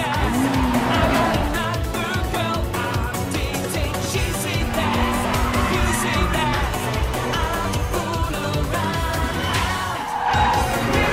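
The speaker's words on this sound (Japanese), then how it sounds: "奴の車が近づいている。" Racing-game engines from Legend One, a Toyota AE86 against a Mazda RX-7 FD3S, roar continuously with tire squeals and skids layered over music-like tones, loud and steady throughout.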